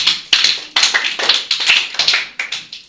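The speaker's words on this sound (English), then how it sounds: "we have the first staff clapping" A few people clapping in a school classroom, a sparse, uneven patter of claps from several hands, fairly close, with no talking.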